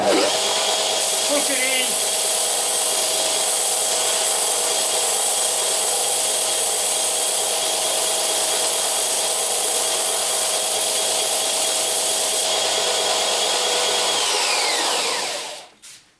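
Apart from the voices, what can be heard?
sander shaping a toy wheel circle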